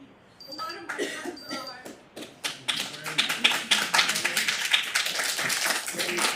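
An audience at a Santa Monica City Council meeting breaks into applause: a brief voice, then many hands clapping, swelling into a dense, sustained, fairly loud round that continues to the end.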